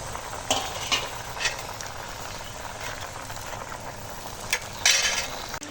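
Washed Malabar spinach and a fried rohu fish head go into a hot pan, where a soft, steady sizzle hisses along. A few sharper clinks and scrapes of stirring break through.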